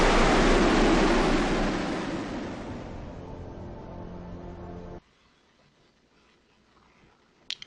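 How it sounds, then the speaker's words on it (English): A helicopter in flight in the game Deus Ex gives off a broad, loud rushing roar that slowly fades over several seconds, then cuts out abruptly, leaving near silence broken by a couple of faint clicks. "It's a nice looking whirly bird."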